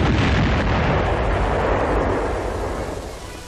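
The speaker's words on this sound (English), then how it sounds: "More firing is required because the rockets were fired too high." Rockets from a Sherman tank's launcher firing and exploding: a continuous heavy, rumbling roar of blasts, loud and close at first, slowly fading over a few seconds, with no talk.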